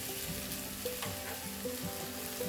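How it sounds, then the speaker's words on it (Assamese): Brinjal and crab frying in a pan give a steady close sizzle with soft crackles that continues through the whole stretch, with no voices. "এতিয়া মোৰ কেঁকুৰাৰে সৈতে বেঙেনা ভাজিখন পূৰা ৰেডি হৈ গ'ল"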